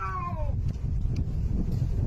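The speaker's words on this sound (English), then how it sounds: "meows are so cute" A cat gives a single short, clear meow at the start, then falls quiet against a steady low background hum.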